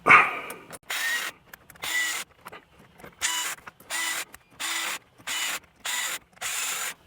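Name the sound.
power tool on low torque setting winding in steering wheel bolts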